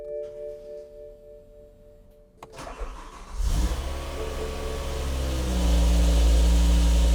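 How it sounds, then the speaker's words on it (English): A BMW E60 M5 with a V10 engine starts up: quiet workshop hum and a click, then the engine cranks and catches, settling into a loud, rising idle that grows steadily stronger. "now I'm gonna fire up the car, connect the connector, and make sure we have no leaks and that everything is working properly"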